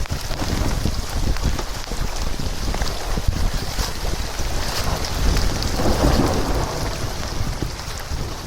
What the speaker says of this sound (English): Craziest storms I've ever paddled in